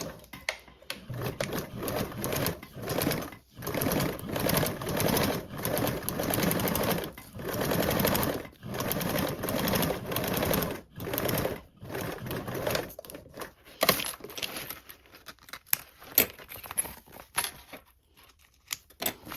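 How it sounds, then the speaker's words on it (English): A sewing machine stitches binding onto the bottom edge of a toiletry bag at a quarter-inch seam allowance, whirring in repeated short bursts broken by brief pauses, close and clear with no talk. "we're going to cover that bottom edge with our binding, sewing with a 1/4 seam allowance"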